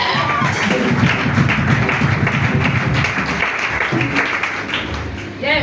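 A church audience applauding, dense continuous clapping with some voices and shouts mixed in, fading slightly near the end.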